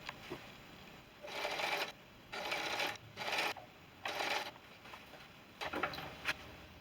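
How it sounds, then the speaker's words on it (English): A sewing machine stitches in short, steady bursts, stopping and starting several times, close by and fairly loud with quiet gaps between runs. "I'll meet you at the sewing machine after I'm done pressing."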